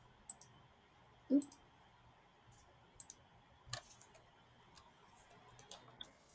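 A computer mouse clicks while spreadsheet fields are highlighted: sparse, sharp, faint clicks, single and in quick pairs, spaced irregularly over a quiet room background.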